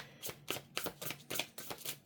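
Tarot cards are shuffled quietly and close by in a quick, even run of about eight papery riffling bursts, with no voices over them.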